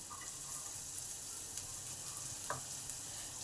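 Chopped onion and green chillies frying in a pan, a faint, even sizzle with a couple of small pops, heard alone and quiet throughout.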